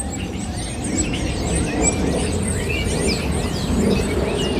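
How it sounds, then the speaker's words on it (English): Birds chirp and tweet in quick scattered calls in Astoria Park, New York City, over a steady wash of park and city background noise. "Can you guys hear the sound of birds?"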